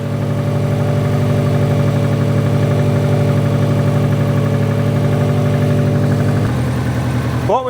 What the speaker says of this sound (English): we're basically waiting for the engine to get up to temperature